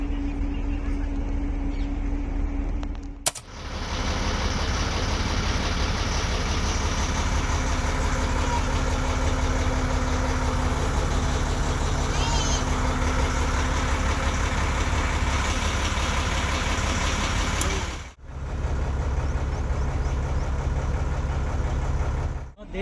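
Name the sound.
motorbike engine idling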